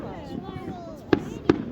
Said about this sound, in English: swirly fireworks.